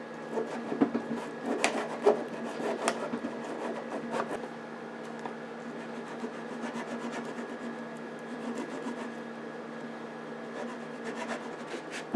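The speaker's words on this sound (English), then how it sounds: "I took my sanding block with some 220 paper" A stiff sanding block with 220-grit paper rasps over the wooden cabinet of a 1937 RCA 87K radio in quick, rhythmic back-and-forth strokes, close and fairly quiet.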